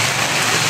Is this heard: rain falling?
yes